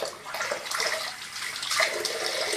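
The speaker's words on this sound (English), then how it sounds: "I have already wet my face and I will make it wet again with some warm water" Warm water splashes and trickles as hands wet a face before shaving, a soft close sloshing that swells and ebbs with no speech.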